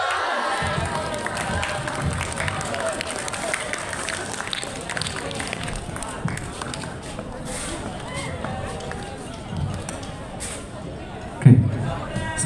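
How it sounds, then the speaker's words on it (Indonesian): A school scout troop crowd applauds and cheers after a student's speech at a scouting event, a steady wash of clapping and chatter with one sharp louder burst near the end. "Sekali lagi tepuk tangan untuk Gali Kayana."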